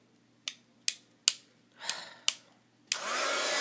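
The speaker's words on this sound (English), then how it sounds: "Okay, so now I'm just gonna dry. If my heat gun wants to work, it has a mind of its own." A few sharp clicks at a heat gun's switch give way to a steady, loud rushing blast of hot air as it dries cloisonne enamel up close; no one speaks.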